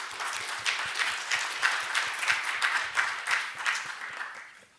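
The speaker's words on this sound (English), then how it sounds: "Another round of applause, I think." An audience at a hackathon showcase applauds, a moderate round of clapping with a slightly pulsing rhythm that carries for several seconds before tapering off.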